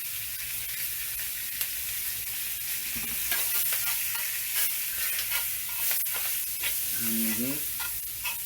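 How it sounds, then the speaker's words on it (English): Onions cooking down in a pan for smothered pork chops, a steady sizzle and frying hiss with intermittent stirring scrapes, close and continuous, with a brief low murmur near the end. "Make sure we cook these onions down for about 10 minutes"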